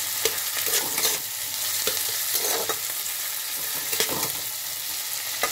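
Chopped tomatoes, a whole garlic clove, ginger, onion and green chili sizzle in a pan as a spatula stirs them, giving a steady close crackle marked by regular scraping strokes.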